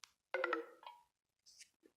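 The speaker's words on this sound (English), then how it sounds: "Sorry about my phone. It's dying." A phone gives a low-battery alert: a short burst of bright electronic tones, then a briefer second tone, followed by near silence with a few faint small sounds.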